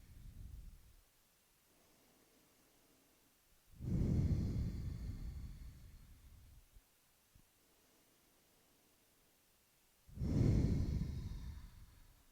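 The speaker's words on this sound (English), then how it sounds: "As you inhale, recite to yourself I, and as you exhale, recite to yourself can." Slow, deep breathing: two long, loud exhales roughly six seconds apart, each followed by quiet stretches of gentle inhaling, close and unaccompanied by talk.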